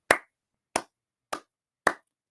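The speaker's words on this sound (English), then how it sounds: "I'm clapping. I'm clapping." Four sharp hand claps, then the start of a fifth, land at an even, unhurried pace, each crisp and close with silence between them.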